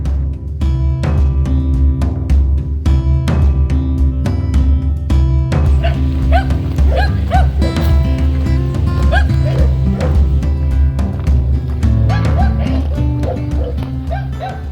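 A dog on a hike in the Ligurian Alps near Albenga barks repeatedly in loud, close bursts, with yips and whimpers, some clopping hoofbeats and brief voices in between.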